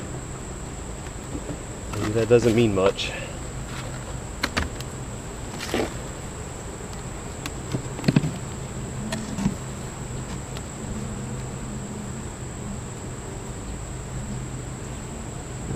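Honeybees hum around an opened hive during a beekeeping check on splits, a steady close buzz with a faint high whine, while someone speaks briefly and handles frames with occasional knocks.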